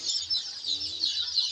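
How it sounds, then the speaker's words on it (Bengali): A brooder full of one-day-old Sonali hybrid chicks chirps continuously: overlapping high, thin peeps, steady and moderately loud, with no talking. "ফার্স্ট টাইম আমি সোনালী মুরগি পালন করতেছি।"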